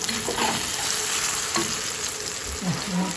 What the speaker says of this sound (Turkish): Güzelim tohumu kızartması artık oldu.